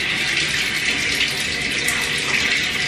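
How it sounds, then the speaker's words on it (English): Tap water runs from a sink faucet into a container, a steady close hiss of splashing flow holding at an even level throughout, with no voices. "I just put some water from the sink into it"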